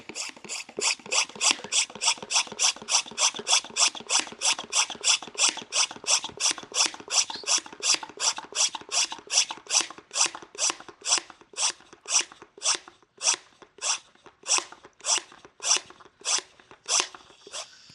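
Solo hand pump sprayer being pumped by hand toward full pressure, a steady run of about forty rhythmic rasping strokes, close and loud, each stroke a short mechanical whoosh, alone without talk.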